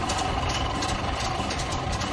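An engine runs steadily after rust, rocks and dirt are cleared out of the fuel tank line. It holds an even, close rumble at idle throughout, with no voices.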